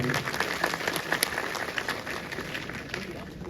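Audience applause in an auditorium at a state employees' council conference, a loose patter of clapping with scattered sharper claps that gradually thins out, moderately loud with some voices in the room.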